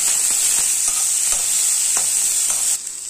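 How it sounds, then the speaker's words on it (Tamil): Onion, curry leaves and green chillies stir-fry in hot oil for a wedding-style poriyal, giving a loud steady sizzle with a few soft spoon scrapes against the pan, close and alone. "இப்போ வெங்காயம் போட்டுக்கலாம். கூடவே 1 கொத்து கருவேப்பிலை, பச்சை மிளகாய் எல்லாம் ஒன்றா போட்டு வதக்கலாம்."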